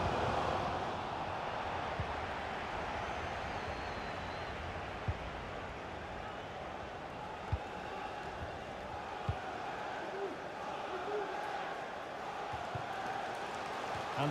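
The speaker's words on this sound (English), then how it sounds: "The crowd certainly think so. Just listen to them." Steady roar of a stadium crowd in the football video game FIFA 23, a broad sustained wash of noise across the whole stretch, with a few faint thuds and a commentator's voice in the mix.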